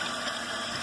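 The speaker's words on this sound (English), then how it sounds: "I'm going to turn on the water here." Tap water runs from a faucet onto grimy dishwasher parts being rinsed clean, a steady close hiss of spraying water with no pauses over the short moment.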